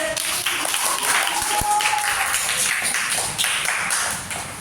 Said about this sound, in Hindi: तालियां मारो इनके लिए